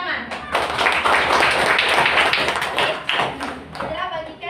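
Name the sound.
classroom pupils clapping hands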